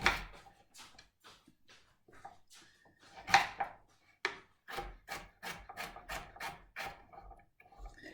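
Knife chopping vegetables on a wooden chopping board, with the tip kept on the board and the heel rocking, giving a run of crisp, close taps that speeds into a quick regular rhythm after scattered, quieter scraping cuts.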